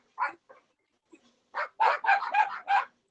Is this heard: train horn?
no